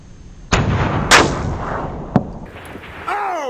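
A Mauser 30-06 sporter rifle fires at a distant steel plate: a single sharp, loud, close report with a trailing echo, followed by a few fainter impacts and a rising whine near the end.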